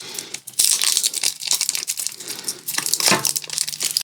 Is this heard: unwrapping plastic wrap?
yes